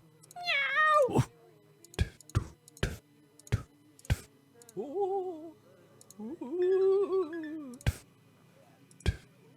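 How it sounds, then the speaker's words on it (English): A cat in the video game Hidden Folks meows repeatedly, drawn-out and whiny calls, broken up by sharp clicking taps scattered throughout. "Meow, meow. Kitty cat."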